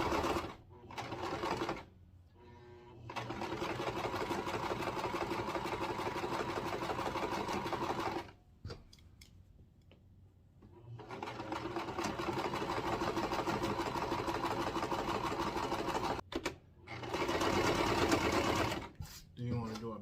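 A sewing machine stitches a fabric waistband in long steady runs of rapid mechanical clatter, stopping briefly between runs, while a voice talks over it.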